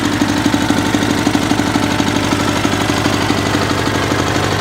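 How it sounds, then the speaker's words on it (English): An Onan twin-cylinder engine idles on a Sears SS/16 garden tractor, suspected of a rod knock, giving a loud, close, rapid rhythmic chugging with a steady beat and no talk over it. "that sound that the Onan engine is making, is that normal for a BFMS? Is that a rod knock?"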